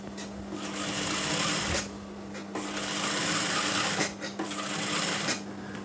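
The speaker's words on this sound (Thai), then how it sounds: "เราค่อยเริ่มเหยียบมอเตอร์จัก" A motor-driven sewing machine stitches a women's shirt collar, its rapid needle chatter running in bursts with short pauses between them, close and loud over a steady motor hum.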